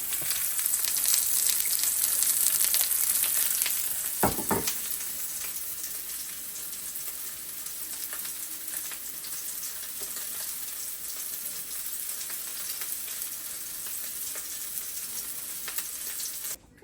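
Chutney-stuffed pomfret fries in oil with a continuous hiss and crackle, louder at first and then settling to an even sizzle, with a brief clatter partway through as more oil is poured around the edges.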